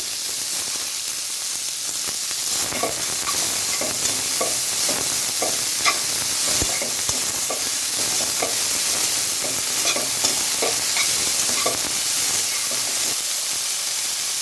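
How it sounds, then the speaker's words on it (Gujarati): Chopped cabbage goes into a pan with carrots for a quick sambharo and is stirred while frying, making a loud, continuous close sizzle and hiss with scraping stirring strokes and no talking. "અને આપણે જે સમારી મૂકેલી એ કોબી નાખી દઈશું।"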